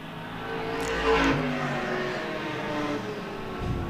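Porsche race cars at speed on the Winton circuit, a steady layered engine roar with a brief louder surge near the start, holding at a sustained mid-distance level without talk.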